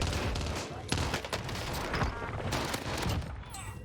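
Rapid bursts of Lapa SMG fire in Call of Duty Warzone's Rebirth mode, dense automatic shots crackling in quick succession throughout, with overlapping gunfire from the match.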